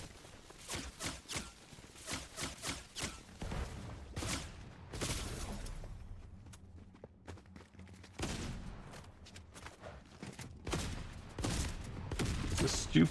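A gun fires in the Fortnite video game: loud, rapid bursts of shots crackle at the start, then a quieter stretch of mechanical clatter before more firing builds up near the end.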